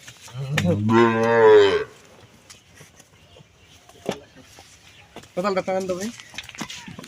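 A dairy cow gives two loud, close moos: a long one near the start and a shorter one near the end, with quiet farmyard noise between them.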